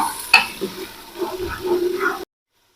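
Chopped onions tipped into hot oil and stirred in a pan, a brief clatter followed by soft sizzling and scraping that cuts off abruptly near the end.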